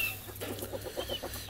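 Roosters and hens cluck in a short burst of rhythmic, clipped calls at moderate distance, several birds overlapping over a low background hum.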